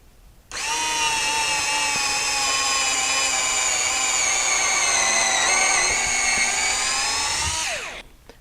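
A Hitachi DB3DL2 screw gun drilling a hole whines steadily at high pitch for about seven seconds, close and loud, dipping slightly under load before winding down.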